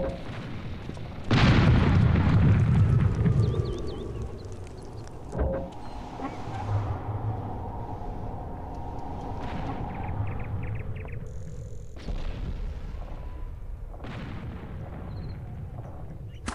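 Cannons firing in the airship battle game Air Buccaneers: a heavy, rumbling blast opens, followed by several more spaced booms and thumps of varying loudness over steady in-game wind and engine ambience.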